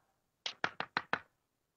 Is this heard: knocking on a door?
yes